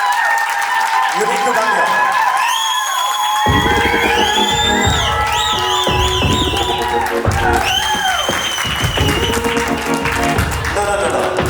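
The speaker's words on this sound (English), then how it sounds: "let's have a big round of applause for this man." Applause and cheering at a women's international polo event, loud crowd clapping and whoops mixed with music and a voice talking over it, continuous throughout.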